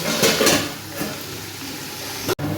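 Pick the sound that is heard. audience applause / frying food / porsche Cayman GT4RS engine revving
frying food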